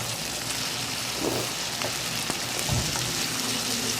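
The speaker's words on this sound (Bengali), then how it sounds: "এই যে হিট হয়ে গেছে, পেঁয়াজ দিয়ে দিলাম।" Onions and green chillies sizzle in hot oil in a pan, a dense, steady crackling hiss throughout with a couple of soft stirring scrapes, close and alone.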